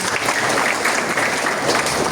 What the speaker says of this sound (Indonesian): Tepuk tangan untuk warga Sukawangi.